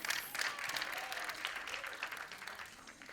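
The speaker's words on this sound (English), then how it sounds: "Give him a round of applause." An audience applauds at the TV launch event for 24 Season 2, a steady wash of distant crowd clapping that stays fairly faint and even throughout.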